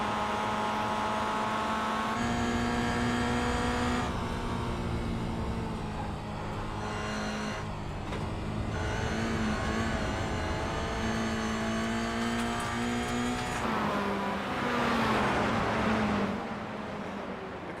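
Mazda MX-5 race cars roaring around Barber Motorsports Park in a sim racing game, a steady high engine drone with rising and falling revs through gear changes and a closing surge of acceleration, no voices.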